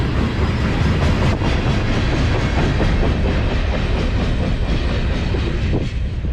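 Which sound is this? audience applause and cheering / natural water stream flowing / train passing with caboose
train passing with caboose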